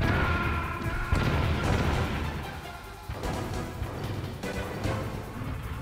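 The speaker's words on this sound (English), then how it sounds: "you fired those missiles at me again." Metal Gear Rex firing missiles in the PS1 game Metal Gear Solid on hard mode: a dense, continuous barrage of booming blasts and crashing impacts, loud and layered, with repeated bursts throughout.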